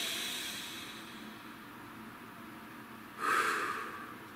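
A single sharp inhaled breath taken on cue, a short breathy rush near the end that follows quiet room hiss.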